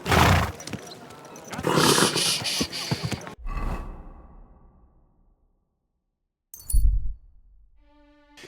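A horse in the video game Kingdom Come: Deliverance 2 neighs loudly with rough, rising whinnies, then trails off into silence; a short snort-like burst follows and a faint tonal sound closes.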